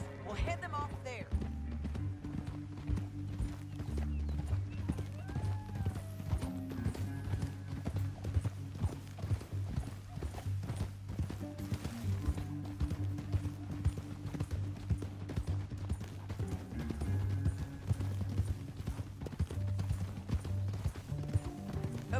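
Horse hooves clip-clop steadily in Red Dead Redemption 2 as riders travel through a canyon, a continuous rhythmic trotting over a low musical score, with occasional bits of talk.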